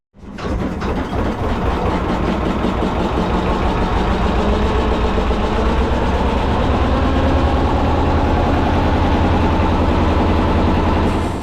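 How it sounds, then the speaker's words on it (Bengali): A motorized river boat's engine runs steadily and loud at close range, a continuous low throbbing drone that holds without break and without voices. "নৌকার মাঝি নৌকার ইঞ্জিন চালু করে দিল এবং যাত্রা শুরু হয়ে গেল"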